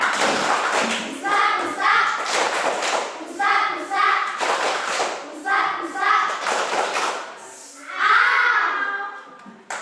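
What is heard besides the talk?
class doing the 'tepuk dokter' clapping chant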